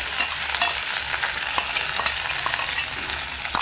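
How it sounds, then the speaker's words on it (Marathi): Ground spice paste for vada pav sizzles and fries in a pan while being stirred, a loud continuous crackling hiss close up with occasional scraping. "वाटून घेतलेलं परतून घ्यायचं त्याला"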